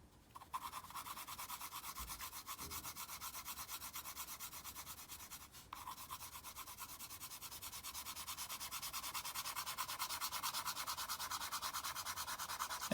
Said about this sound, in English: I'm gonna take my finger and I'm gonna rub to blend it all in